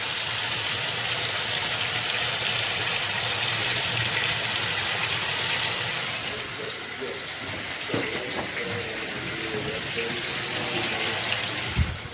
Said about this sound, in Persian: یه لیوان آب میریزیم داخل گوجه